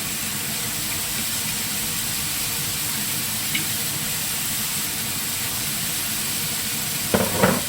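Water bamboo shoots stir-fried with oyster sauce, a steady loud sizzle and hiss throughout, with a soft stirring scrape midway and a sharper clatter near the end.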